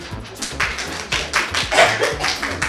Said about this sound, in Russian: Так, аплодисменты.